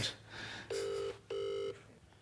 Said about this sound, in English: he couldn't wait to ring his nan